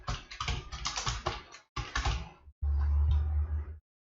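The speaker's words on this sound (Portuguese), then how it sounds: "deixa eu digitar o meu nome." Keys clatter on a computer keyboard as a name is typed in quick bursts, close and fairly loud, with short pauses between runs and a low hum underneath toward the end.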